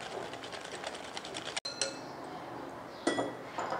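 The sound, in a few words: eggs being mixed into creamy cake batter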